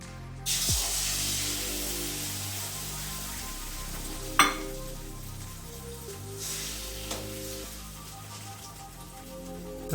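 Steady frying sizzle of an egg in oil with a soft crackling hiss throughout, plus a couple of sharp clinks and pops over the ten seconds; no talking.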